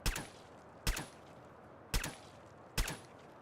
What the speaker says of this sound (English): I'm just gonna shoot them all.